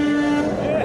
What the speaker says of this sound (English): With every honk, Jason is paying it forward